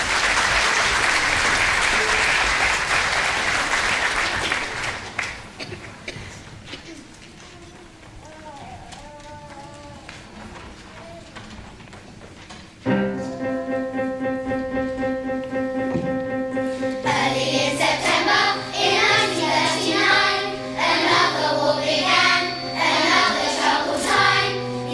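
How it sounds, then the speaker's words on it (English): A school audience applauding young primary-school singers at a Battle of Britain anthem performance, loud clapping that fades after a few seconds, followed by piano and voices beginning to sing. "So a round of applause for all of them, please."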